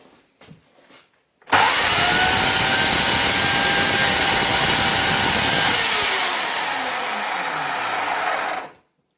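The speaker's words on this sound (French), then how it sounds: "je vais maintenir l'accélération et venir actionner ma pierre de ponçage. Ça va faire des étincelles et ça va affûter la chaîne" An Oregon PowerSharp CS1500 electric chainsaw held at full throttle while its chain is sharpened against the built-in stone, a loud close whining roar that starts abruptly, drops slightly in pitch, then cuts off.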